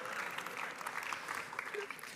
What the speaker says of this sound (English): I think they should give themselves an applause.